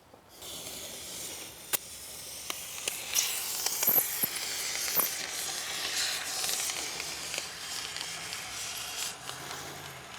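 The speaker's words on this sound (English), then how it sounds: "You can fill it up with spray foam, and I'm about to show you how to do that." Spray foam being sprayed into a gap at the corner of exterior siding: a steady hiss from the can that builds and carries on for several seconds, with a few faint clicks and taps.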